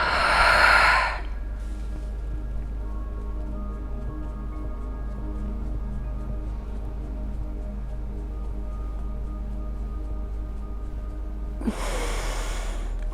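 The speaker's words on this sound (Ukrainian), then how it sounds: "І останній підхід вдих, видих." Breathing during an agnisara kriya yoga exercise: a strong, close inhale at the start, a long held stillness with a low steady hum, then a forceful exhale at the end.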